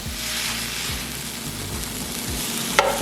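Food sizzles loudly and continuously in a pan, with a few rhythmic scraping stirs and a clink near the end.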